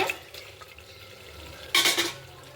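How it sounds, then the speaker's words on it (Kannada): Tomatoes fry softly in oil in a pan while cooking tomato bath. Light sizzling runs under scraping stirs, with a louder clatter of the spoon near the end. "ಎಣ್ಣೆಯಲ್ಲಿ ಸ್ವಲ್ಪ ಫ್ರೈ ಆಗುತ್ತೆ ನೋಡಿ ಫ್ರೆಂಡ್ಸ್ ಟೊಮೆಟೊ ಎಲ್ಲ ಸಾಫ್ಟ್ ಆಗಿದೆ"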